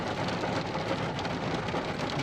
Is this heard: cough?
no